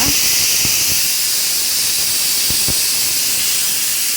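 Steam keeps hissing out of a pressure cooker of pulao after the stove has been switched off, a loud, unbroken high whoosh that fills the whole stretch, with a few faint knocks beneath it.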